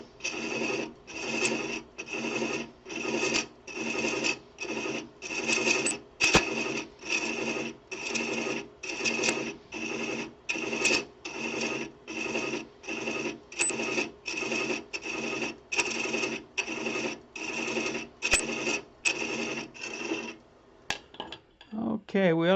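A hand-chasing tool cuts threads into wood spinning on a woodturning lathe, producing a steady run of regular rasping strokes, about one per second, close and fairly loud, ending with a brief clatter.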